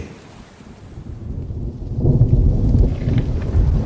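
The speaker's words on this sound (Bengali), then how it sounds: "প্রবল ঝড় জলের রাত" Heavy rain pours steadily through a stormy night over a sleeping village, with deep rolling thunder that swells louder halfway through and keeps rumbling to the end.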